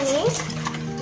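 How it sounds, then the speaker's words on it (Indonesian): Batter mixed with vermicelli stirred in a bowl, a short wet swishing close by under a faint voice. "Kita aduk lagi"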